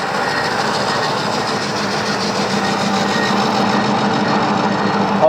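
A metal lathe turns a welded steel workpiece in heavy cutting, giving a loud, continuous rattling machine drone with a steady rhythmic chatter and no voices.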